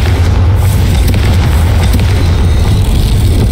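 A Confringo fire-spell explosion in the Hogwarts Legacy video game: a loud, deep booming blast that carries on as a continuous heavy rumble for a few seconds, with no speech over it.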